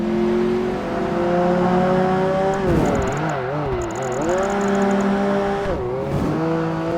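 Racing car engine in an Xbox racing video game, a loud continuous engine note that rises through the revs and drops sharply at each gear shift, with brief tire noise.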